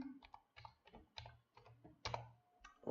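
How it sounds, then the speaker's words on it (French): Quick, uneven keystrokes on a computer keyboard as a word is typed into a search box, close and clear, in bursts of clicks with short pauses and no talking. "Je viens dans la zone de recherche et j'écris clafoutis."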